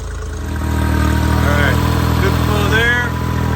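A boat engine at the start of the season idles smoothly and loudly with a steady low rumble, while someone talks over it.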